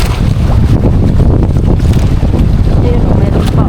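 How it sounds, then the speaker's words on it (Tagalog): Strong wind buffets a drifting boat on open water, a loud continuous rush of gusts and microphone noise with waves splashing underneath and no pause throughout. "Pinapadpad kami ng hangin eh."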